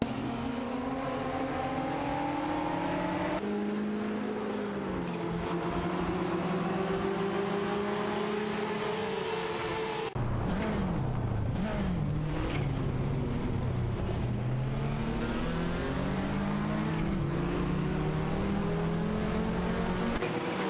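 Racing car engines in a game race, a Ferrari 288 GTO and a Mercedes-Benz 190 Evo battling for position, droning steadily with rising and falling pitch as gears shift, near and loud throughout, no voices.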